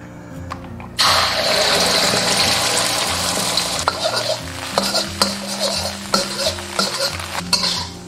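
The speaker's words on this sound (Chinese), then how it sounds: "现在我们先把这个鸭蛋煎起来" A duck egg fries in oil in a hot wok. A loud, close sizzle bursts in after a quiet first second, then crackles and hisses steadily, with some spatter and utensil clinks.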